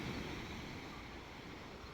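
Sea waves and wind at a Taiwanese beach, a faint steady wash of surf and broadband wind rumble with no distinct breaking crashes, alone without voices.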